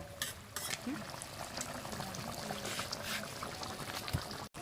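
Fish in mustard paste is stirred in a pan for a village-style Bengali fish recipe. The stirring and scraping are soft and low, with faint kitchen clatter around them.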